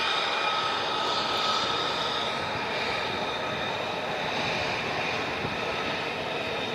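F-35 fighter jets taxiing one after another on arrival at a Vermont airfield, a loud, steady engine roar and high whine that fill the whole stretch without letup.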